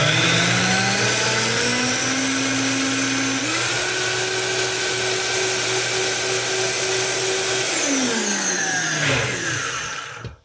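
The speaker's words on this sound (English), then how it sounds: "we're just going to blend it" Countertop blender whirring through a carrot-ginger dressing, a steady loud motor drone that steps up in pitch as the speed is raised, holds, then winds down and stops near the end.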